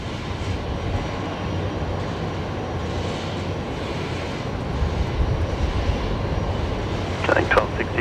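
A jet airliner arriving at Brisbane Airport on a flight from Mackay rumbles as a steady, loud, broad roar that swells slightly toward the end, with faint radio chatter at the close.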